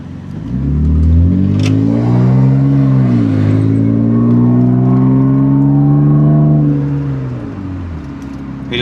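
A BMW E36 328i straight-six climbs through the revs on the road, pauses for a gear change, then pulls again before easing off, loud and close from inside the cabin.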